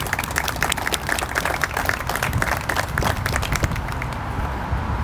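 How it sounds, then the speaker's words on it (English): Audience clapping outdoors at a presidential site dedication ceremony, a steady round of applause from a gathered crowd, moderately close and continuous throughout. "Can we give them a round of applause, please?"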